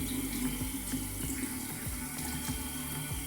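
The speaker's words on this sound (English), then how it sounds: "So first, I just wash my face with some water in the morning." Water runs from a bathroom tap into a sink while someone washes their face, a steady close splash with irregular drips and splashes of hands in the water.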